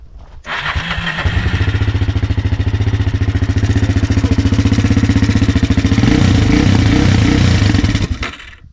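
A 400cc quad bike engine fires up and runs close by with a loud, steady, throbbing rumble, its revs lifting slightly toward the end before it cuts off.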